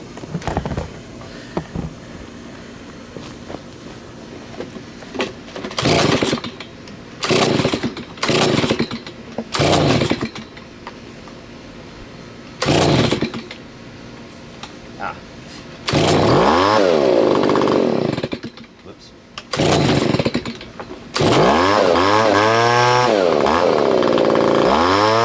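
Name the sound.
Stihl BG55 leaf blower engine running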